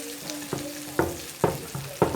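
Barramundi fillet frying in a pan on a stove, a soft steady sizzle broken by sharp spatula clacks and stirring scrapes at regular half-second intervals, close and fairly loud with no talking.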